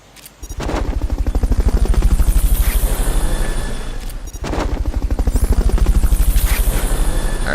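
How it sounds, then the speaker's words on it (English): In Metal Gear Solid Peace Walker, a recovery helicopter roars loudly with fast, steady rotor thumping that drops briefly midway, then resumes at full strength, with no speech over it. "Recovery helicopter is complete."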